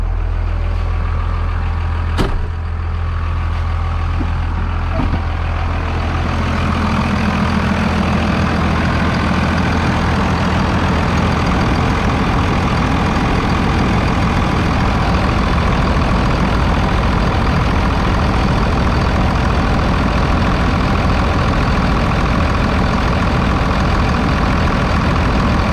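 The Cummins diesel engine of a Ram Laramie pickup, with its exhaust off the muffler, idles close by in a loud, steady low rumble and clatter that carries on unchanged, with no talking.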